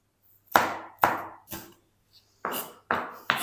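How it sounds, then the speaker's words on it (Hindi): Green chillies being chopped with a knife on a board, six sharp separate knocks in an uneven rhythm with short gaps, close and clear. "हरी मिर्च को काट कर लिया है"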